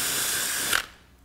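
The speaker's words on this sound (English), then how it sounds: "So drill a hole here." A drill bores into a steel ball with a loud, steady high-pitched grinding whine that cuts off abruptly after about a second, leaving a quiet room tone.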